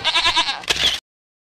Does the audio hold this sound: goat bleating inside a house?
yes